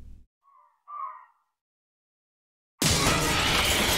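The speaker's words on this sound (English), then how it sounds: "Fuck the crows! Not fighting the crows." Crows in the survival horror game Resident Evil Zero give a few short harsh caws in quick succession, followed by silence and then a sudden loud burst of dense noise.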